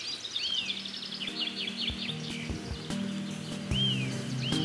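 Young chicken chirping outdoors, repeated high thin peeps in quick series, then single chirps spaced apart, fairly faint over low background rumble and thumps.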